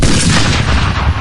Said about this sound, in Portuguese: esperando o segundo disparo